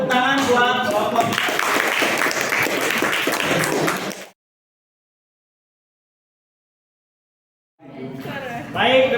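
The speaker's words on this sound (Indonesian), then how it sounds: "Kita berikan tepuk tangan buat kelompok." Classroom applause for a student group presentation, a burst of many hands clapping for about four seconds, then a gap of silence before a voice resumes.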